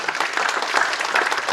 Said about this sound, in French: donc vous pouvez les applaudir quand même